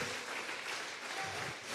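A church congregation at a Sunday service claps in steady, dense applause, a broad wash of many hands continuing evenly throughout.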